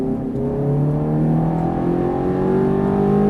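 A Ferrari F430 accelerates on a race track, its engine note climbing steadily and loudly, heard close up without any talk.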